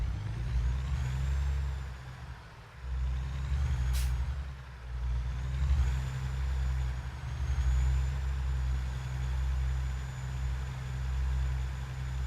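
A new truck driving with air brakes, a steady low engine rumble carrying on throughout and a sharp air-brake hiss bursting out once partway through.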